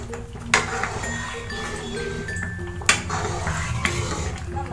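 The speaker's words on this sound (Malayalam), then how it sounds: "ഇളക്കി കൊടുക്കണം" Banana stem curry stirred in a pan as the water cooks down, with a spoon scraping and clinking against the metal a few times over a low bubbling simmer.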